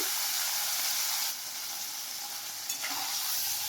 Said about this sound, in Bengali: তেল গরম হয়ে গেছে এবার আমি মাছ তেলের মধ্যে তুলে দিলাম